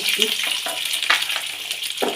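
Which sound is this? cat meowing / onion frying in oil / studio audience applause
onion frying in oil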